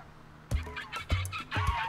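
Flytrap creatures in the game Spore call out in three warbling, gobble-like bursts, loud and close, separated by brief gaps.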